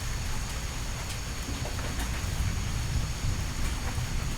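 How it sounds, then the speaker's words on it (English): Steady, dense rainforest thunderstorm rain pours continuously with a low rumbling undertone and scattered louder drops, a full, enveloping wash with no voices. "Welcoming the sensation of cold rain and cool air."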